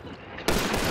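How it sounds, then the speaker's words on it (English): A gunshot in the video game Hunt: Showdown, a sudden loud blast that cuts in halfway and rings on as a dense, sustained roar to the end. "I shot him"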